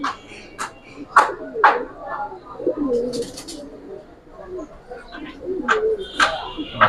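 Pigeons, Giribaz and coloured breeds kept on a rooftop, coo in low, soft bursts close by, while people talk intermittently over the birds.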